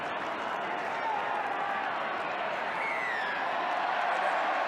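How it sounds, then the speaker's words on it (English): Rugby league crowd at a 1998 Newcastle Knights versus Canterbury match, a steady, loud wash of massed voices calling out to the referee, sustained throughout with no clear breaks. "Crowd appealing for the referee to get Canterbury back 10 metres."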